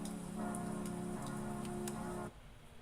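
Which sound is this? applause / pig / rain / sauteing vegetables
rain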